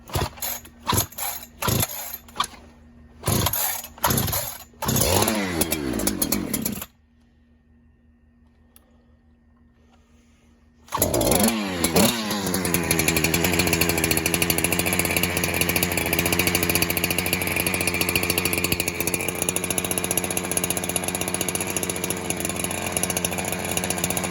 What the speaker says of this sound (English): So it looks like it's running a little fat right now, but that's just because it's a cold start.